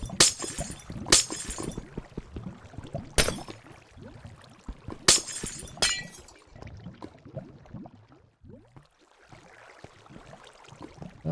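Glass breaking in a block-building video game: four sharp, bright shattering bursts at uneven intervals, each followed by tinkling debris, over a low busy background.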